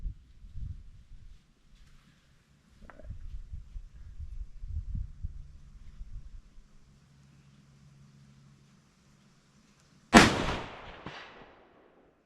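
A single sharp .308 rifle shot cracks out loud and close with a decaying echo across a range of steel targets at 100 and 200 yards, after low rumbling handling noise and near silence.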